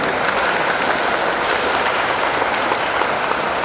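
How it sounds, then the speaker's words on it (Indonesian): Loud, dense applause at a regional karate championship event fills the room continuously, a steady wash of many hands clapping with no pauses. "Tepuk tangan untuk kita."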